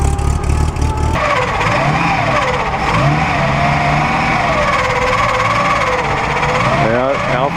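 An Alfa Romeo car at the Pebble Beach Concours, supercharged, revving with a loud, wavering engine note that rises and falls repeatedly over a busy outdoor background.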